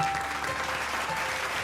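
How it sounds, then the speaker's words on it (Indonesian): An audience on an evening television talent program in Indonesia claps in steady, dense applause that fills the space evenly for the whole short stretch, with no clear speech over it. "kita berikan tepuk tangan juga."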